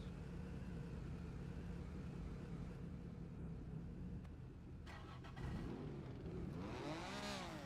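A Honda NSX NA1 engine in a racing video game hums at a low steady idle, then climbs and falls through several sharp rising and falling revs toward the end, close and clear.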